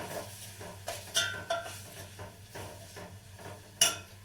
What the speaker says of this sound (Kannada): ಒಂದು ಸ್ಪೂನ್ ತಗೊಂಡು ಮಿಕ್ಸ್ ಮಾಡೋಣ ನೀಟಾಗಿ ಮಿಕ್ಸ್ ಮಾಡೋಣ